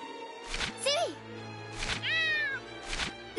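A cartoonish cat from the video game Gravity Rush 2 meows twice in close, clear bursts, with a third short call at the end over a steady game background hum.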